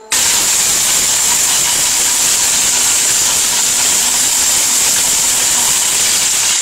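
ORPAT blender motor running loud and steady, grinding ingredients to a paste, a constant dense whirring roar that fills the whole clip with no pauses and no talk.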